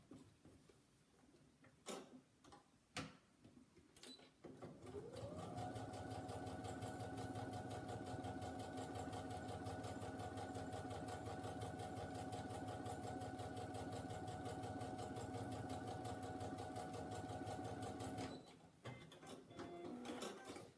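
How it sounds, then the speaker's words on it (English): A sewing machine runs steadily for about thirteen seconds, stitching a quarter-inch seam along the edging of a fabric Christmas wreath. A few handling clicks come before it starts and after it stops. "Take my edging again, place it in place, and do my 1/4 inch seam"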